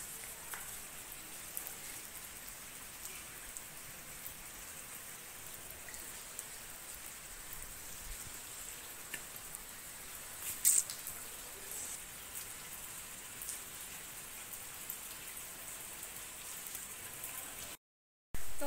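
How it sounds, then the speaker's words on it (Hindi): Heavy rain that has been falling since the night pours down in a steady, unbroken hiss with faint scattered drips and taps, continuous throughout before a brief cut near the end. "आज हमारे यहाँ पे रात से ही हो रही है जोरों की बारिश"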